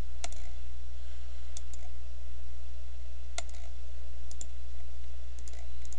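A computer mouse gives a few sparse, sharp clicks over a steady low electrical hum, close and fairly faint, with no speech.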